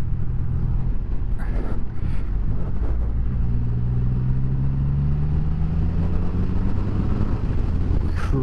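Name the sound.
Triumph Rocket 3 GT motorcycle engine accelerating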